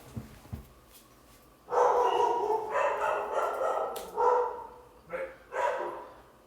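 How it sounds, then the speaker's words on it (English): Several pet dogs inside a home bark excitedly in a burst of loud, overlapping woofs, pausing briefly before two more short barks close by. "my dogs are going crazy"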